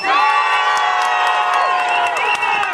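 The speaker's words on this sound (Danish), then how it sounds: "Vi har københavnske tilskuere i dag, kan I høre det?" Spectators at a 2012 Danish championship girls' final, home fans from Copenhagen, cheer and whoop loudly and steadily throughout, a dense crowd roar with shrill shouts on top.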